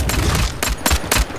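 Gunshots in the video game Bloodhunt, a few quick, loud bursts of rapid fire in close succession within a second and a half.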